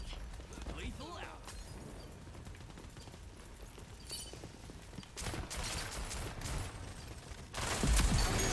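Submachine gun fire in the video game Rogue Company crackles in dense bursts, quieter early on and louder near the end, with players talking throughout.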